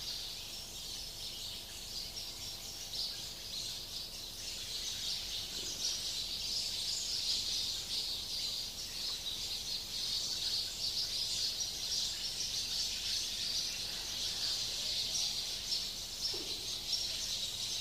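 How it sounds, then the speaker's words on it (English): Birds sing in the Himalayas, bright chirping calls repeating steadily over a soft bed of insect-like trilling, moderately distant and without talk. "let the bird's sound also be recorded, because they must know that it is recorded in the Himalayas."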